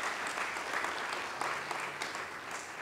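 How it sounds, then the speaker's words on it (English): Audience applause for city staff at a community safety meeting: steady, dense clapping that fills the room without a break, loud and sustained, with faint voices mixed in. "So let's give a round warm of applause for our staff."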